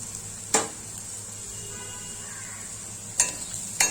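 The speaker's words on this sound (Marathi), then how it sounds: "कांदा लसूण आपला चांगला परतला गेला आहे" Onion and garlic sautéing in a pan for a matar paneer curry, a steady faint sizzle with three sharp clinks of a spoon against the pan.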